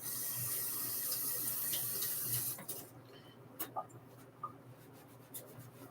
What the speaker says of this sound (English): Let me rinse up my hand real quick.